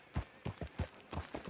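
Horse hooves clip-clopping in Red Dead Redemption 2, a steady close rhythm of about six soft thuds over a second and a half, alone without talk.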